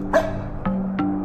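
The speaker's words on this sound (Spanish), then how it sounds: "el perro está ladrando" A dog in a horror video game barks three times, in short yelping bursts spaced about half a second apart, fairly close and clear with no talking.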